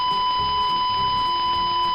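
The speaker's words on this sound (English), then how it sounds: "it does play beep sounds until you exit out of the error screen." A Blue Screen Simulator error screen plays a continuous electronic beep, a steady loud tone held without a break for the whole two seconds.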